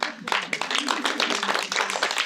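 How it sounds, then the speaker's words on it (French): An audience claps for performers at a French literary event: dense, even applause from many hands, close and steady from start to finish, with a faint voice briefly under it. "Vraiment, on peut les applaudir bien fort."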